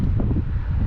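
Gusts of wind buffet the microphone on the South West Coast Path in Cornwall between Par and Lansallos, a loud, close, low rumble that fills the whole moment.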